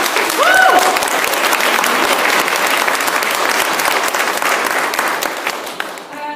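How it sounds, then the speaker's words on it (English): An audience at an evening panel event gives a sustained round of applause, dense steady clapping that holds at full strength for about six seconds before easing off at the end, with a few voices briefly rising above it. "let's all give her a round of applause just for that"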